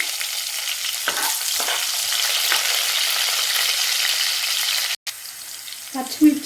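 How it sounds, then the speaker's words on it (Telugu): Green chillies and fenugreek seeds fry in two spoons of hot oil in a pan for a home-made chicken fry. A loud, close, steady sizzle runs throughout, broken by a brief cut near the end and a few clatters of stirring. "2 స్పూన్స్ ఆఫ్ ఆయిల్ హీట్ అయ్యాక కాస్త మెంతి, వేయాక పచ్చిమిర్చి"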